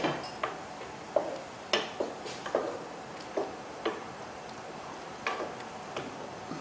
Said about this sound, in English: we're going to add this right into the tomatoes. Okay, and you can just stir that up.